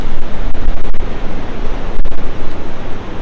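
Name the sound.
sea waves crashing against rocks, roaring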